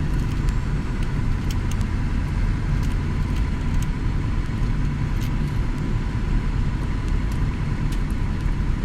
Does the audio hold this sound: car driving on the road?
yes